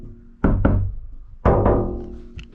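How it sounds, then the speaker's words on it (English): Two pairs of knocks on a sound-deadened RAM ProMaster van panel, each a dull thud followed by a quick second knock, close and fairly loud with a short damped ring after each. "I'm doing the same knock, but it seems like I'm doing something different because it's that much of a difference"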